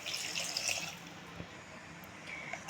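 Water poured from a tumbler into a pressure cooker while making goat leg soup, a soft steady splashing stream that lasts the whole moment, faint and close.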